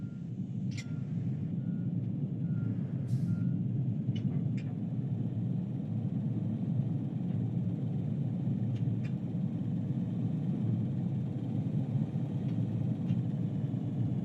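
Truck reversing beeps at an airport gate in Microsoft Flight Simulator 2020, a few faint repeated high beeps over a steady loud low engine and ground rumble, no talking.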